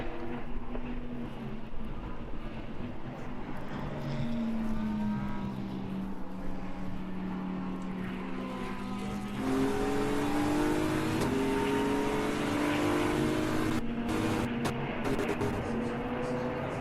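Racing cars, a Lamborghini GT and a KTM endurance racer at the Brno circuit, accelerating out of the pits, their engines droning and rising in pitch under a steady wash of track noise, growing louder midway.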